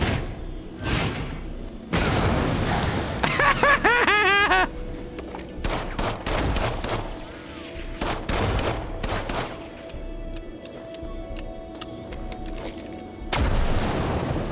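Robots blow up amid gunfire in the System Shock Remake, a run of sharp blasts and booming impacts with rapid bursts and some electronic warbling, loud and close, separated by brief quieter gaps.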